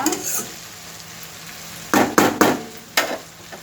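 Broad beans (chikkudukaya) sizzle in a pan while being stirred, with a soft steady fry broken by several short, sharp scraping stirs.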